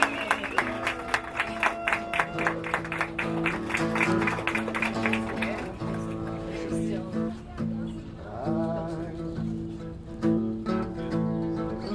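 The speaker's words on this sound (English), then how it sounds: "I'd like everyone just to have a cheer to the happy couple and to Ross and Jen" Wedding guests at a Central Park ceremony cheer and clap for the newlyweds while music with steady rhythmic chords plays under the crowd noise, and voices mingle throughout.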